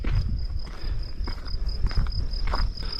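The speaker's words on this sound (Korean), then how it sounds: "여기 지금 뻐꾸기 소리랑 이게 지금 귀뚜라미 소리인데 귀뚜라미 소리가 들리네요" Crickets chirp outdoors along the Camino de Santiago in Spain, a steady high trilling pulse that repeats throughout, with crunching footsteps on a path and rustling close by.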